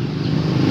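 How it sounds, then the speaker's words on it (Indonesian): A Honda Beat Street scooter engine struggling as it is started, a short, close, rough low chugging rumble that stays steady and loud for under a second. "Bisa tapi ini macet Kun mesinnya Kun."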